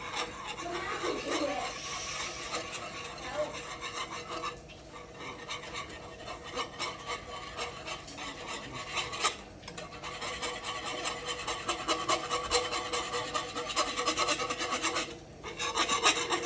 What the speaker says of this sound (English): Whisk it, whisk it, whisk it. Just whisk it around.